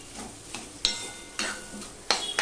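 A spoon stirs grated carrot and boiled potato with salt and turmeric in a pan, giving repeated scraping and clinking strokes against the metal with a soft sizzle underneath, close and moderately loud, with no voices.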